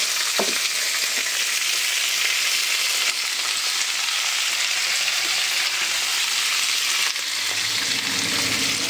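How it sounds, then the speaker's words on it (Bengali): Loud, steady sizzling of flat beans frying in hot oil in a wok with cumin seeds, with a few scraping stirs against the pan partway through. "কড়াইতে দেখো একটু জিরে ফোড়ন দিয়ে দিয়েছি, আর এই যে শিম"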